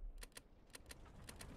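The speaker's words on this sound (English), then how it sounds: "I don't know if I like the clicking on the throttle." Crisp, light throttle clicks in Stormworks, in small pairs and singles over a low hum, quick mechanical snaps that repeat unevenly.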